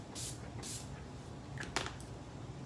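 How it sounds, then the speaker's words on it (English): Two quick, faint hissing bursts of setting spray misted onto a face over freshly applied foundation, close up in a quiet room. "Now I'm gonna set it with the setting spray"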